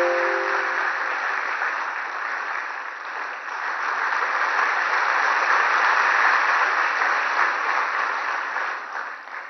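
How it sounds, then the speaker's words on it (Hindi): Sustained applause from a large audience at a TB summit in a Varanasi convention centre, a steady broad wash of clapping filling the hall for about ten seconds without letup. "कृपया जोरदार तालियां बजाते रहें।"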